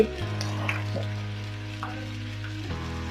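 Curry leaves stirred and fried in a pan with onion, garlic and ginger, giving a steady close sizzle with a few soft scrapes, no talking.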